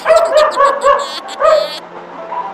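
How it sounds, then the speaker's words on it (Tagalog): A dog barks close by, several quick high yips in a row, then one more bark and a short whine trailing off. "ang ingay ng aso!"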